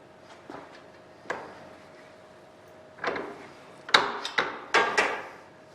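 Metal parts squeezed flat in a Kurt machinist vise with flat jaws, giving a few loud creaking, crunching bursts in quick succession after softer scrapes and clanks, close and alone.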